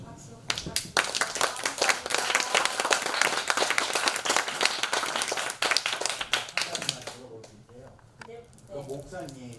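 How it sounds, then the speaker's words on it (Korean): Loud, crowded clapping from a forum audience fills most of the span, then tapers off as a speaker's voice comes in near the end. "김영순 선생님께 뜨거운 박수 부탁드립니다"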